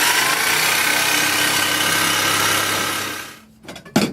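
A loud, raspy car engine with a holed exhaust drones steadily close up for about three seconds, then winds down and cuts out, followed by a couple of clunks.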